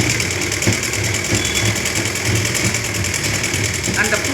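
An electric sewing machine stitching a lining for a blouse neck piece, a fast, continuous mechanical whirring and rattling heard up close under a voice.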